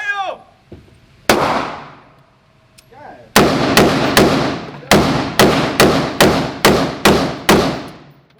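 A Glock pistol fires at a shooting range: two loud single shots, then a rapid string of about ten sharp, close reports in quick succession, with brief voices near the start.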